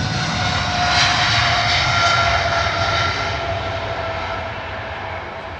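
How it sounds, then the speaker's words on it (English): A British Airways jet airliner, registered in 1997 and about 29 years old, departs Heathrow, its broad engine roar loud and close, swelling briefly and then slowly fading as it climbs away, with no voices over it. "Lovely departure. 29 years old, eh? Registered the British Airways in 1997."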